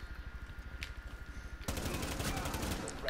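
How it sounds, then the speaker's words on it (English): Assault rifle in Rainbow Six Siege fired in rapid, evenly spaced automatic bursts, growing louder and denser midway, with faint talk underneath. "I really am liking it as a assault rifle"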